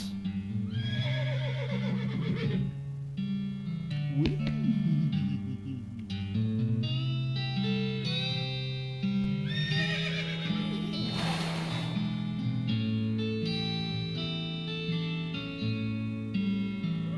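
Horse neighing with hooves in the video game Red Dead Redemption 2, two loud whinnies rising over steady in-game music and ambience, close and clear.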